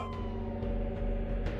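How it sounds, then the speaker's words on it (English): A police car siren in the courtroom game Ace Attorney: Spirit of Justice wails steadily and loudly over a low rumbling background, with no voices over it. "Well, police cars here, cool, Ryan."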